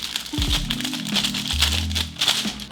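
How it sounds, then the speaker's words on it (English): Plastic packaging crinkles and rustles as a Razer Huntsman Mini 60% keyboard is pulled out during unboxing, close up, in a series of crackly bursts with some low thumps. "Take it out of this packaging and want to keep your keyboard fresh."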